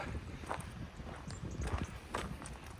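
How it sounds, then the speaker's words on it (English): A horse's hooves clip-clop slowly on a hard surface, a handful of soft, unhurried steps fairly close by. "I've got a couple of horses in here, folks, so he's coming to say hello"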